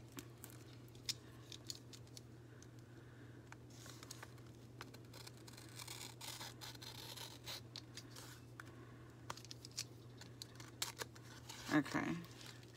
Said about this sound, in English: we're just gonna cut around the seal here and see if I can't